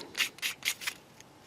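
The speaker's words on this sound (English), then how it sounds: "Quick scrape." Sandpaper scraping the surface of a Bandai 1/12 scale Boba Fett model kit: four quick close strokes in an even rhythm, then a faint fifth touch, soft and dry.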